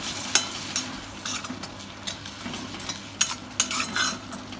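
Gravy being stirred in a pan for homemade egg puffs, with a utensil scraping and clinking against the pan in a few sharp strokes over a low simmering sizzle, fairly quiet and close.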